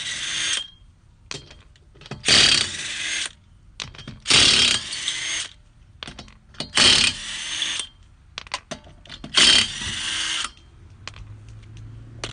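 Power tool ratcheting off the lug nuts of a 2012 Chevy Cruze wheel, several loud buzzing bursts of about a second each separated by quieter gaps of clicks and handling noise, close up, no talk.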